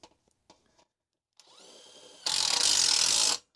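Screw being driven into an HVAC zoning damper with a power drill, quiet ticks first, then a short whirring run that gives way to a loud, steady high-pitched drilling burst lasting about a second before stopping abruptly.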